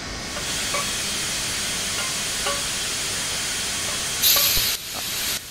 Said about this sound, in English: I might just stop the whole train with the